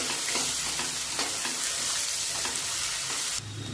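Sesame and ground peanut sizzle in hot oil in a pan for a cowpea usal, with a constant loud hiss and quick, rhythmic spatula scrapes, then a brief lower-toned shift near the end.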